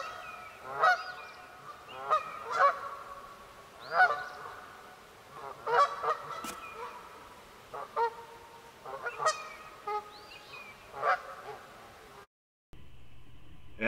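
Canada geese honk repeatedly during nesting season, loud calls in irregular bursts over a quiet outdoor background, nearby and clear, with no talk.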